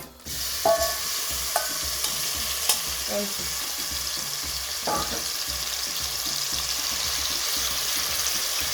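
Beef pieces sauté in hot olive oil with a loud, continuous sizzle, with several clinks and scrapes of a utensil stirring near the start, then an even crackle alone.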